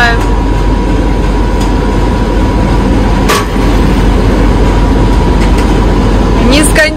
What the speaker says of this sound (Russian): Нескончаемый поезд.